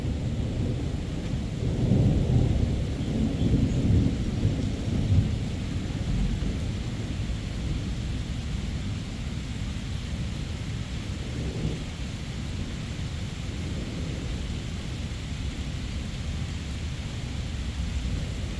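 An evening thunderstorm passes overhead, with rolling thunder swelling early and then a steady wash of rain that carries on to the end, nearby and without voices.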